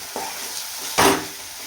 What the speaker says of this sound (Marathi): आणि आता आपण अजून 1 मिनिट ह्याला परतून घेऊया.